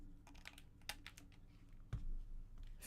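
Someone types on a battery-powered computer keyboard in a steady run of quick, irregular keystrokes, quiet and close, with a slightly louder thump near the end and no talking.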